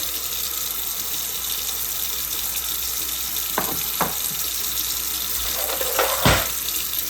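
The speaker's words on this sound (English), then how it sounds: "I'm going to let the water get hot." Hot water runs steadily from a tap into a sink during a brass-cleaning job, a continuous close gush with a few brief knocks and clinks over it.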